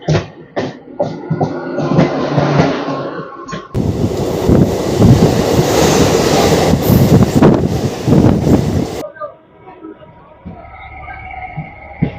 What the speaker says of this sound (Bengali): ট্রেন ছেড়ে দিল